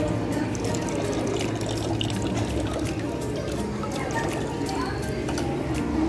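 Water runs steadily at a hands-on exhibit in the Telus Spark Science Centre: an even, continuous splashing flow that stays at one level throughout, with faint hall noise around it.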